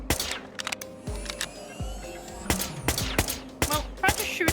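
Gunfire in the detective game Whispers of a Machine, a rapid series of sharp, loud shots fired in irregular bursts, each cracking out clearly over a quiet background.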